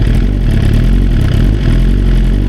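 Suzuki GSX-R motorcycle engine running as the clutch is slowly let out, a loud, close, steady idle rumble with a faint clatter and a slight dip partway through, with no voices.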